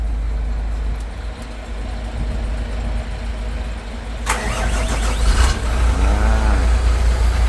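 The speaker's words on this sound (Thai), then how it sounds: "โอเคแล้วเราก็จะทำการสตาร์ทเครื่องครับ" A 10-wheel truck engine cranks and catches after a battery jump from an emergency jump starter, loud and close, with a rough low rumble before and a burst of cranking before it settles into running.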